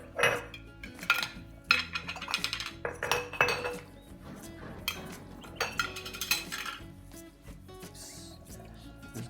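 A thick smoothie with coconut oil is poured and spooned into a glass jar, with clinks of glass and utensils, scraping and soft wet plops, close and fairly quiet.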